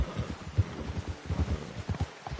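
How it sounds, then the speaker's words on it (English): Rhythmic clip-clop of horse hooves on hard ground in Red Dead Redemption 2, a steady trotting beat up close with no voices. "Get that horse in line, Arthur."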